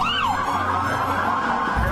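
An ambulance siren wails close and loud, its pitch sweeping up and down in a continuous cycle.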